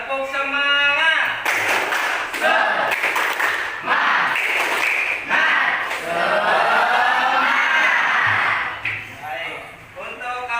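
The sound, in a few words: class doing a rhythmic spirit clap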